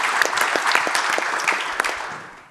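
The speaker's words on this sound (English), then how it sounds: "round of applause for Franz" A room of listeners gives a speaker a round of applause, steady close clapping from many hands that stays even, then thins and fades toward the end.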